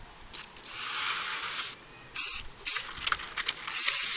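Aerosol spray can of white paint hisses in several bursts, a long steady spray first, then shorter on-off blasts of close, loud hissing.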